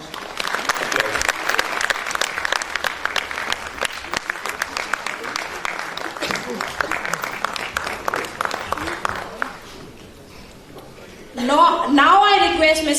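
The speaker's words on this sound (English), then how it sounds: "Give him a big round of applause" A conference audience applauds, sustained dense clapping for about ten seconds that fades out before a voice begins speaking.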